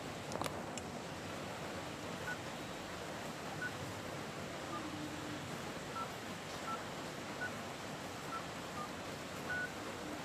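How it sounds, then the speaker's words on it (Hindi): An Android phone being dialed gives a faint run of short, evenly spaced keypad beeps over a steady background hiss. "मैं अभी मेरा फ़ोन डायल करके आपको दिखाती हूँ।"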